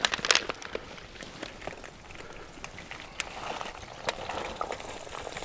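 Chips fried a second time in a pan over a woodland campfire in autumn, a soft steady sizzle and bubbling with faint crackles and a few knocks, fairly quiet throughout.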